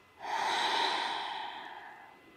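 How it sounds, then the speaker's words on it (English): Slow nasal breath during a guided yoga balance practice, a soft airy inhale-exhale that swells quickly and fades gradually, close and quiet with no talking. "Breathe in through your nose and then breathe out."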